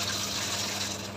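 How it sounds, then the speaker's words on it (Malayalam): Water running steadily from a kitchen tap, a continuous broad gushing hiss, moderately quiet and uninterrupted for about a second. "എന്നിട്ട് പൈപ്പ് നിർത്ത്"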